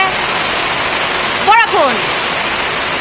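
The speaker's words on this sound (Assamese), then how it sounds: "বৰষুণজাকৰ শব্দৰ পৰা একো ভালকৈ শুনা নাপাব" Steady broadband hiss of heavy rain during a storm in Sivasagar, Assam, fills the whole clip, with a brief burst of a voice or chirping tone rising over it midway.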